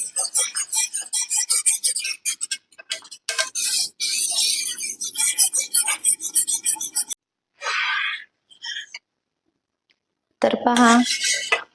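A spoon scrapes and clinks against a pot as fruit custard is stirred, in quick repeated strokes with a few pauses. It is close and clear, and a voice speaks briefly.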